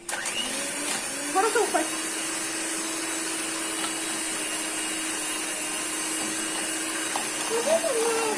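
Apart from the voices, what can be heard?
mixing baking ingredients with a mixer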